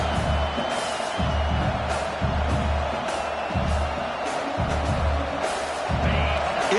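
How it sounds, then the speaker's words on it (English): Fired-up stadium crowd at a football game roars as a steady, dense wash of noise, with rhythmic low thumps like stomping or chanting recurring every second or so throughout. "It's early, but this crowd is fired up. Listen to this noise here."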